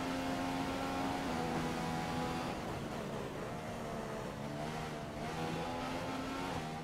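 McLaren Honda Formula 1 car engine in the F1 2015 racing video game, a steady high-pitched whine with clear harmonic tones that shift as the revs change, loud and continuous throughout.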